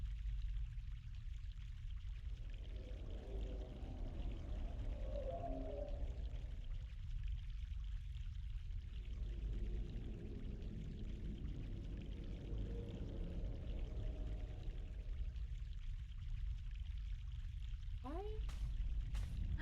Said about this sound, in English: But I'm hearing water.